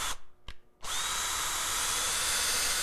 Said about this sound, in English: I want to make sure that I'm just drilling a pilot hole